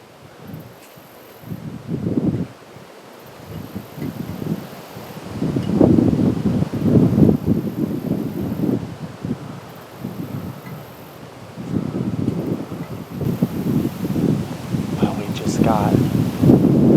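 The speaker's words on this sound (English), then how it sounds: "also the wind is blowing, this way basically out of the south" A south wind blows across open Missouri public land beside a bean field during deer season, rumbling in uneven gusts against the microphone, with faint rustling throughout.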